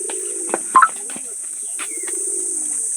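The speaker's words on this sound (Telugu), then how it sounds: "పావురాలు ఫ్రెండ్స్, అంటే వైట్ పావురాలు కూడా ఉంటాయి ఫ్రెండ్స్" Pigeons at a zoo enclosure, soft low coos and a few short chirps over a constant high-pitched insect-like hiss, with faint background activity.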